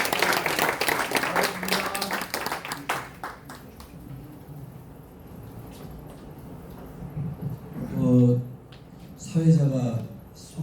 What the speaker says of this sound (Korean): 자, 우리 다시 한번 힘찬 박수로